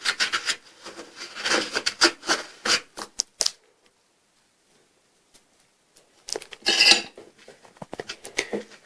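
Milk and powder being mixed by hand into a homemade cream, with bursts of brisk scraping and rubbing strokes against a bowl, a quiet pause in the middle, then another burst of mixing up close.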